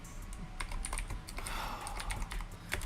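Rapid, uneven clicking of fingers typing on a computer keyboard, close and fairly quiet, with bursts of keystrokes running through the whole stretch and no talking.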